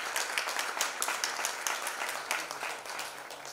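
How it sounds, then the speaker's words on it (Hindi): Faint, scattered applause from a small audience at a film festival awards press conference, individual claps audible within a light, uneven patter. "इसके लिए एक बार सबके लिए जोरदार तालियां हो जाए"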